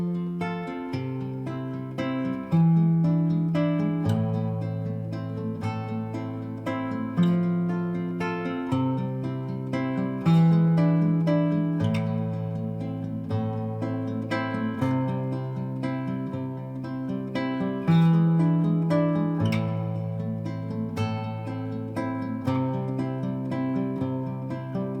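A simplified, beginner-level fingerpicked guitar arrangement of Sirenita Bobinzana plays alone, with a steady repeating bass-and-treble picking pattern and sustained ringing notes throughout.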